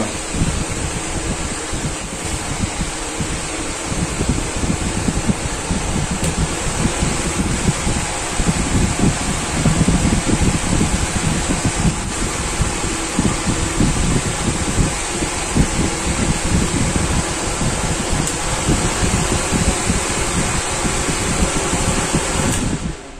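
A repaired wall fan blows with a constant, loud whooshing rush of air, steady and close to the microphone throughout.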